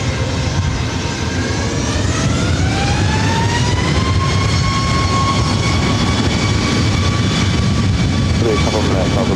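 A Boeing 737 MAX 8 jet at LAX, flight 555 bound for Vancouver, gives a loud, continuous engine roar with a rising whine that levels off, heard close and sustained while someone talks.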